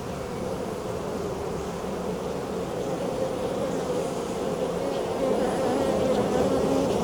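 Honey bees buzz all around an opened hive in a dense, close, continuous drone that swells slightly louder toward the end.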